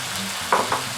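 Chicken, holy basil and beans frying in a hot pan for Thai Pad Krapow Kai: a steady sizzle broken by two quick stirring scrapes, close and moderately loud.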